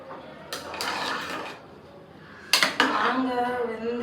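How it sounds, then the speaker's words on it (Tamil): Food being packed into a tiffin lunch box, with clattering clinks of dishes and utensils in two bursts, the second sharper and louder, around a quieter pause. "டிஃபன் பாக்ஸுக்கு அதை கட்டிடுறேன்."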